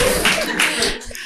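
Scattered hands clap in a live podcast audience, a short burst of applause that thins quickly toward a few isolated claps, mixed with faint background murmur.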